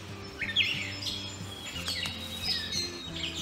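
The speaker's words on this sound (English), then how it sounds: "this strange collection of grunts and squeaks you can hear all around me is the song of a gray catbird" A gray catbird sings a varied string of squeaky, slurred phrases and grunts with short pauses, fairly close in woods, over a low steady hum.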